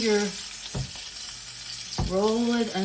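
Chicken skin frying in hot fat in a pan, a steady close sizzle with two sharp bursts as pieces are turned, a faint hum underneath.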